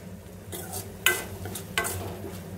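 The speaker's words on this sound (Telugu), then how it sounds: "మిక్స్ చేసుకుంటూ కాసేపు ఫ్రై చేసుకోవాలి." Tomato curry stirred and fried in hot oil in a pan, a steady soft sizzle broken by a few sharp scraping strokes of the spoon, close and alone with no voices.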